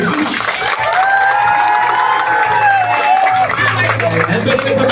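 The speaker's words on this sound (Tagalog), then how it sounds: "can we give her the wildest, ang pinakamalakas po natin palakpakan at hiyawan for Cherish" A crowd claps and cheers at an 18th birthday debut celebration, steady applause and shouts running throughout while a host's voice carries over it and music plays faintly underneath.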